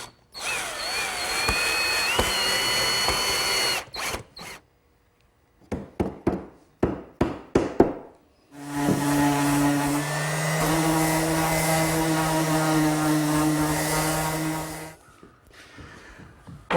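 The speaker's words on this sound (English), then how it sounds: "Set the piece in place and attach it with some screws." A power drill drives screws into a wooden Adirondack loveseat, with a long whirring run, a string of short stop-start bursts, then another sustained close whine that tapers off, without talk.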